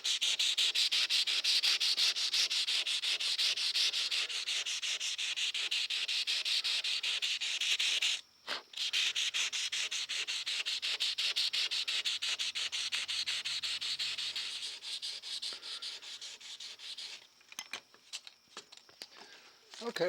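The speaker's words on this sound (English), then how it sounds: "I'm just going to take some 600 grit sandpaper and finish smoothing this out." Hand sanding a steel skinner knife blade with 600 grit sandpaper produces loud, close, continuous rapid rubbing strokes, with a brief pause partway through and choppier, more broken strokes toward the end.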